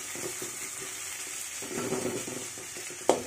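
Fish sizzles steadily in hot oil in a pan for fish masala, a continuous frying hiss with faint shuffles and a brief sharp clink near the end.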